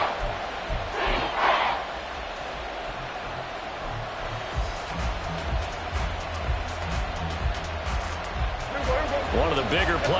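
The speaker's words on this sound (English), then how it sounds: "The crowd getting into it as we come up on a big third down" A football stadium crowd roars and swells ahead of a big third down, a dense sustained wall of cheering with scattered shouts, while a commentator talks over it.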